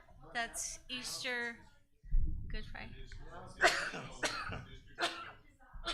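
Someone sneezes during a board retreat meeting, a sharp burst amid conversation, with a second smaller burst moments later while people keep talking.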